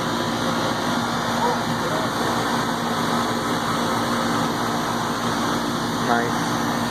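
An air conditioner unit runs steadily after its 40/5 capacitor is replaced, a constant low hum and fan whir with no pauses, with faint brief tones near the end.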